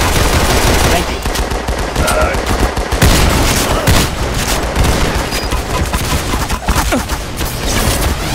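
Loud, dense automatic gunfire from the video game Typical Colors 2, continuous rapid bursts of shots with booms layered over one another, with voices shouting faintly underneath.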